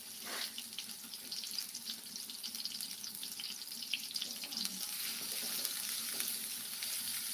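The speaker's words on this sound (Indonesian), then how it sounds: "Tumis sampai harum ya guys." A pan sizzles steadily as ingredients are sautéed for a home-style Indonesian family meal, a hissing, crackling texture with occasional scrapes and knocks of a utensil, moderately close and without talk.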